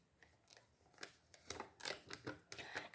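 A paper envelope is opened by hand in a series of short, close crinkles and tearing rustles that grow busier toward the end, with no talk.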